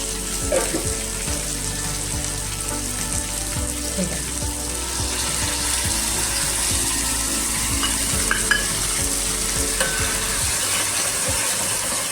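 Wet ground masala paste for a Konkani bombil fish curry sizzles steadily in a pan. A spoon scrapes and stirs through it, and there are faint splashes and water sounds in the background.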